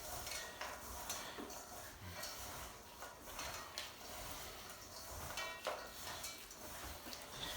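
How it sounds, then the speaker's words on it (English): Butter, sugar and walnuts for a bread pudding are mixed together by hand, giving faint, steady squishing and gritty crunching as the mixture is worked. No one speaks. "what I'm going to do with my hands is I'm going to mix all this together"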